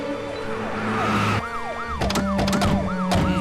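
A police vehicle siren wails in repeated rising and falling sweeps, loud and steady over a faint engine hum, with no voices.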